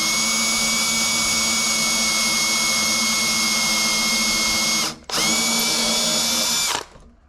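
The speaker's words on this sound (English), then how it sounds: "Then now I can take my drill" A power drill runs steadily, boring a hole to mount the rudder on a monohull boat, loud and close for about five seconds. It stops briefly, whines again, then cuts off.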